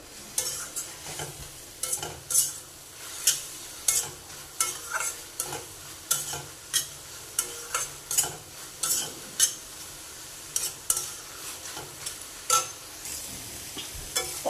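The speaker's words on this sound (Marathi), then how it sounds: "त्यामध्ये आता आपण जवळा टाकून घेऊयात मिक्स करून घेऊयात" A spoon stirs dried shrimp (javla) into a pan of cooked onion and tomato for a Maharashtrian chutney, giving rhythmic scraping strokes about once a second over a soft sizzle, close and fairly quiet.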